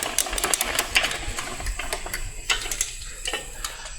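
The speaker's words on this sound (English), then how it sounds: "we're going to take the speed handle here and the socket." A speed handle with a socket ratchets down bolts on a 6L80 transmission main case, giving a quick, fairly close run of rapid clicking with short pauses and no talking.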